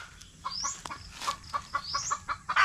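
Chicks peep in short, high chirps that repeat in a quick irregular series, close by, with some clucking from adult chickens and no talk.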